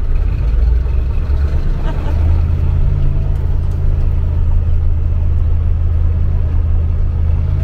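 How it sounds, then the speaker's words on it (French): A car accelerating on a road during a driving lesson, a steady loud engine rumble that rises slightly in pitch partway through and then holds, continuous from start to end. "Un coup de gaz, vas-y, n'aie pas peur. Accélère."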